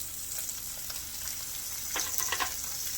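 Food hits a hot pan and sizzles with a steady, close frying hiss for a few seconds, with faint crackles and a brief stir, no talking.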